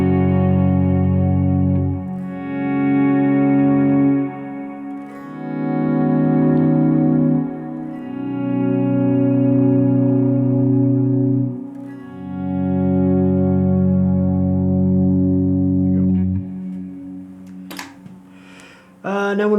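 Electric guitar played with slow volume swells through effects such as chorus, delay and reverb, chords rising and fading in smooth waves, loud and close, with a few brighter picked notes near the end.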